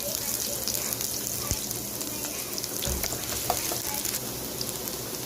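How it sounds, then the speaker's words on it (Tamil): Finely chopped large onion fries in hot oil for veg noodles, with a continuous close sizzle, occasional stirring scrapes and a few light knocks, and no voices. "எண்ணெய் காஞ்சி பெரிய வெங்காயம் சின்னதாக ஒன்று கட் பண்ணி போட்டிருக்கேன்"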